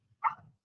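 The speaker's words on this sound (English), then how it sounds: "so it's just barking at the water." A dog barks in the background at running water from dishes being washed, with one short, fairly faint bark or yip and a low rumble after it.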